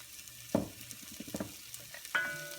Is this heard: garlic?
yes